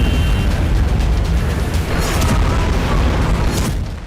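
A rocket attack on Ashkelon, Israel brings a loud, heavy booming roar that rumbles continuously with deep low-end weight, unbroken by any voices.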